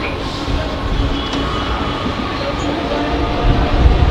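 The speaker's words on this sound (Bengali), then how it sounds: "অনেক ট্রেন যায়" A train rumbling steadily through Rishra railway station, a continuous loud roar of wheels and carriages close by with no break across the span.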